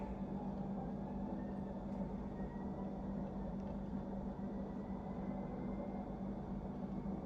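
A 52-inch Sears Emerson Turn of the Century ceiling fan runs with a steady low motor hum and airy whoosh, constant and fairly quiet throughout, with no talking.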